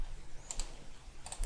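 Mouse clicks on a computer while modelling in Inventor CAD software: several sharp, quiet clicks in small pairs, close by, over faint room hiss with no talking.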